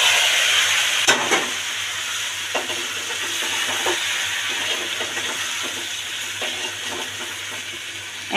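Boiled chicken sizzles against fried onions in a pan for chicken korma, a steady loud frying hiss with occasional spoon scrapes and stirs, and no voices.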